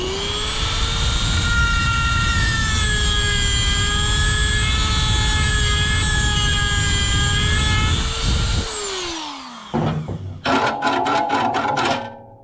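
Metal cutting on the exhaust of a Vespa P200E scooter to notch it: a loud, steady high-pitched whine with strong harmonics runs for about eight seconds, winds down, then a few brief rattling bursts follow.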